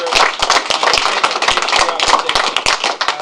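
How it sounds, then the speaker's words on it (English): An audience applauds Senator Boxer at a transportation rally on Capitol Hill, with dense, loud clapping and sharp individual claps punctuating the steady wash throughout. "So join me in a round of applause for our hero, I believe, Senator Boxer"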